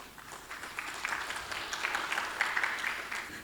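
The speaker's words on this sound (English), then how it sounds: "A round of applause as we welcome her." Audience applause welcoming a speaker to the stage at a real estate forum, a moderate, sustained patter of clapping that swells slightly and carries on for a few seconds.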